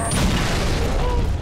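A sticky grenade explodes in Halo: Reach as a loud, dense boom with a rumbling low end and crackling debris, filling the moment with no voice heard.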